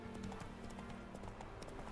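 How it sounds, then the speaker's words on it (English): Horse hooves clip-clopping at a steady trot in The Witcher 3, a quiet rhythmic in-game beat over continuous background sound. "I am also riding a horse."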